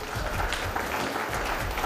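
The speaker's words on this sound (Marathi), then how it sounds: "त्याच्यासाठी जोरदार टाळ्या झाल्या पाहिजेत।" Brief burst of dense applause from a crowd at a school annual prize-distribution ceremony, honoring a silver medal winner, steady and uninterrupted for under two seconds.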